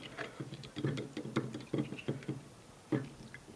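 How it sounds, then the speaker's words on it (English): A metal strainer screen from a Chinese 150cc enduro dual-sport bike is swished through dirty gasoline, giving a run of soft, irregular clicks, taps and sloshing knocks close by with no talking. "just stir it around a little bit, get all the crud out of there"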